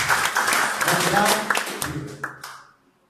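A church congregation claps briskly under lingering speech, the dense clapping tapering off and fading to silence near the end.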